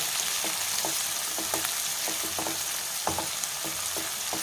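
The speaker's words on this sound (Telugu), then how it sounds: "సన్నగా తరిగి పెట్టుకొని చక్కగా వేయించుకోవాలి." Chopped onions and green chillies fry in a pan for a cauliflower curry, making a steady, moderately loud sizzle with scattered light stirring taps and scrapes throughout; no talking.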